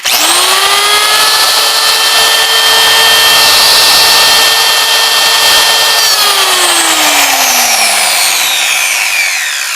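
A Makita 4100NH power tool with a rewound armature runs at a loud, steady, high-pitched whine for about six seconds, then winds down, its pitch sliding lower as it coasts toward a stop.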